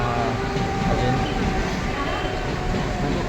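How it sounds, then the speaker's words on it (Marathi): A train pulls into Thane station, its steady loud rumble and rail noise filling a busy platform, with people talking over it. "आता ट्रेनची वाट बघतो. ट्रेन लागते आहे."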